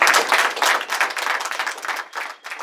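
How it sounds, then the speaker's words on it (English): An audience gives a round of applause for a state governor at a cultural event, a dense burst of many hands clapping close and loud, pulsing unevenly before trailing off. "So why don't we give him another round of applause?"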